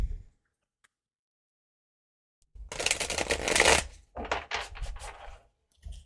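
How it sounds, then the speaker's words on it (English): Tarot cards being shuffled close up: a long riffling burst, then several shorter shuffles, with no talking. "if you don't want to listen to me shuffle"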